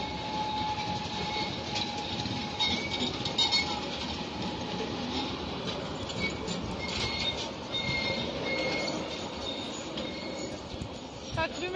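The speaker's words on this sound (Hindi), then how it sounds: "ट्रेन भी चलती रहती है" A train rolls steadily past near Hagia Sophia in Istanbul, its wheels and carriages giving a continuous close rumble with faint squealing and rattling, while street noise and voices carry in the background.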